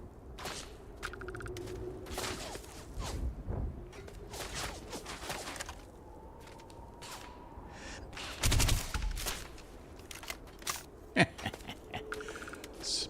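Weapon fire in the video game Starfield rings out in sharp irregular shots and short bursts over a low ambient hum, with one louder cluster of blasts in the middle and scattered cracks after.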